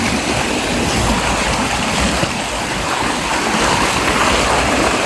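Fresh water rushes steadily over rocks in a stream, a dense, unbroken broadband wash heard up close with no voices and no pauses throughout.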